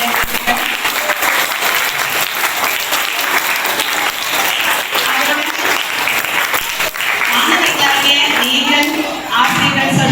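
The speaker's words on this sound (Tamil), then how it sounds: "அதுக்கு மீண்டும் அவங்களுக்கு ஒரு கரகோஷம் கொடுக்குறேன்." Audience at a school Tamil literary club event giving a loud, sustained round of applause, dense clapping throughout with some voices mixed in.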